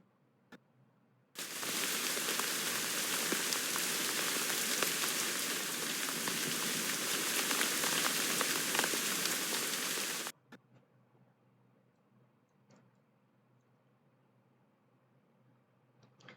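A synthetic rain sound effect, a dense, steady hiss of falling drops, starts abruptly, holds at an even level for about nine seconds, then cuts off sharply, leaving near silence with a few faint ticks.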